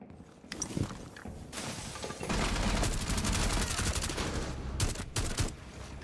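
Gunfire in the Rainbow Six Siege video game, a dense stretch of rapid automatic shots and sharp cracks sustained for several seconds, with clear bursts near the end over a busy in-game background.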